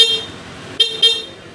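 A newly installed replacement car horn on a stock vehicle honks in two short bursts close by, a steady tone over light background noise.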